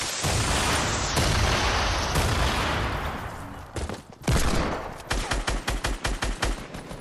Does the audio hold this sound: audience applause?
no